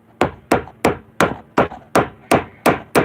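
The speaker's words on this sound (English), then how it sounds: "If you have the Thedford, you hit it with a hammer." Eight sharp, evenly spaced hammer blows strike a Thetford commode seal about every 0.4 seconds, each a close, loud knock with a short ringing decay.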